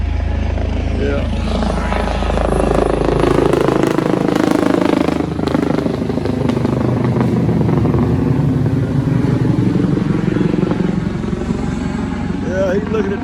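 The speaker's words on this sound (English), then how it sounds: "I hear a news chopper coming over." A news helicopter passes overhead outdoors near floodwater, its broad rotor drone swelling in the middle and then holding steady throughout, while people talk over it.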